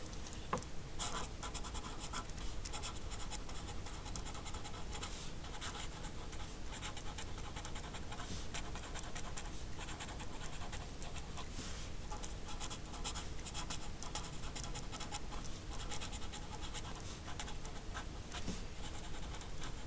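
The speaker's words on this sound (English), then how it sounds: "Let me actually write that." A pen scratches steadily across a writing board in a run of short strokes, faint and close, continuing without pause for the whole stretch.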